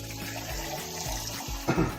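Tap water runs and pours into a container for a homemade kale green smoothie, a steady gurgling stream with a brief louder splash near the end, close and unaccompanied by speech.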